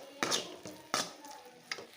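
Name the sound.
stirring roasted ground masala in a pan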